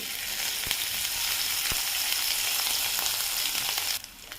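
Green chili, garlic and ginger, roughly crushed, fry in hot oil for dahi bhindi, giving a steady, close hiss of sizzling that drops away near the end with no voices.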